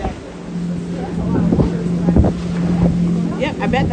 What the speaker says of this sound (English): I think this is the pilot boat